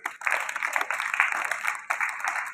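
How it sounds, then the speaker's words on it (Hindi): An audience at a children's program for Mahatma Gandhi's birth anniversary bursts into loud, sustained applause, dense continuous clapping that briefly dips before surging again, close and energetic. "एक बार जोरदार तालियां।"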